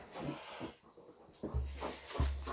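Small dogs eager to go outside give short snorts, wheezy breaths and low whimpers close by, with two stronger low-pitched bursts near the end; no talking.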